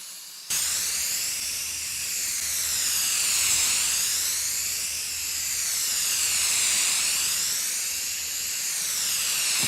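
Steady hissing spray of orange paint laid down for a patina finish, close and continuous for nearly ten seconds with a slow swelling rhythm as passes sweep back and forth, no talk.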